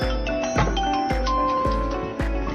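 A phone ringing with a bright chiming ringtone, repeating tones struck about every half second over a steady sustained background, fairly loud and close, with no talking.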